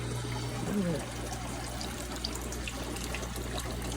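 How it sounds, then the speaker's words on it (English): Water runs steadily into an aquarium tank during a water change, a continuous pouring trickle with a low hum underneath, close and even throughout. "Now we have to wait for it to get filled."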